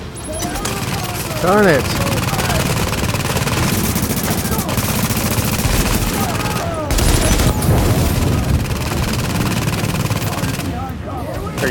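Sustained turret gunfire in The Division video game at a napalm production site, a continuous loud rattle of rapid shots with booming impacts, while someone talks over it.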